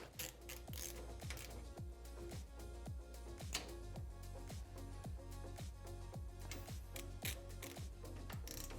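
A hand ratchet tightens bolts while a Tusk Stage 3 upgrade kit is installed on a Honda Talon 1000 UTV. It gives a steady, evenly paced run of clicking strokes, quiet and close, with no talking.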